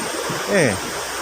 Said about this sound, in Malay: dengar bunyi air terjun ni